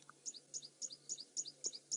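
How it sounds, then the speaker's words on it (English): A bird calls close by in a tree above resting leopards on a morning African safari drive, giving repeated bright two-part chirps about every quarter second, loud and clear over a quiet background with a faint low hum. "Oh, where is that bird that's calling so close to us?"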